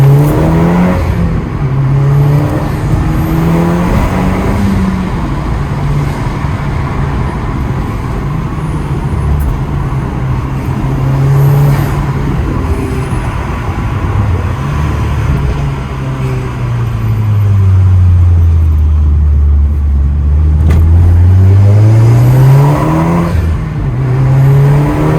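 A tuned Audi S3 with a stage 3 setup making 460 bhp accelerates hard from inside the cabin, its engine note climbing in loud, rising sweeps with brief drops at the gear changes.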